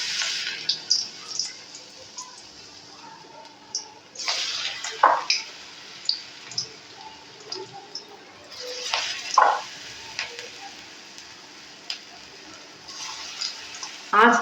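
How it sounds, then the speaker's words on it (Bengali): Gima greens fritters (bora) go into hot oil, producing bursts of crackling sizzle as each batch drops in, fading to a softer bubbling between splashes, with some quiet talk in the background. "তেলটা কিন্তু গরম হয়ে গেছে, এখন আমি বড়াগুলোকে দিয়ে দেবো।"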